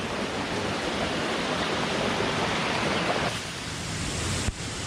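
A jungle waterfall at Bambarakanda pours as a steady, loud broadband roar of rushing water, continuous throughout, easing slightly partway through with a brief knock near the end.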